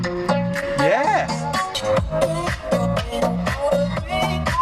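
Beat-driven music with steady bass thumps plays through the rebuilt sound system of a wrecked 2019 VW Golf GTI Mk 7.5, loud and close, with a voice briefly over it.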